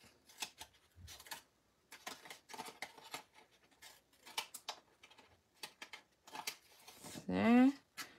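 Scissors snip in short, irregular clicks, close by, with a voice speaking briefly near the end.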